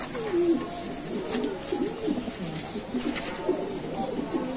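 At a pigeon farm, a pigeon close by gives repeated throaty coos in a steady rolling rhythm over a low background hum.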